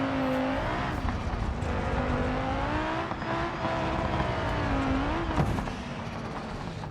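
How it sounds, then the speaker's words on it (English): A rally car with engine damage in the BeamNG driving game, its engine drone loud and continuous with a rough, wavering pitch, sputtering and dipping near the end, and no talk. "Oh, engine damage. That didn't sound good."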